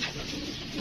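Pigeon cooing close by amid a dense, steady background hiss and rumble, the soft coo partly buried in the noise.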